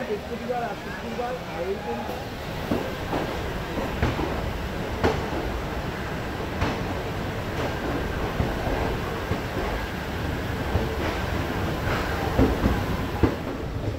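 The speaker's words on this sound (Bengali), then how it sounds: "ট্রেন ছাড়লো কলকাতা স্টেশন থেকে" Passenger train departing Kolkata station bound for New Jalpaiguri, a continuous rumble of carriages on rails with faint periodic clicks of wheels over joints, steady and fairly close from inside the coach.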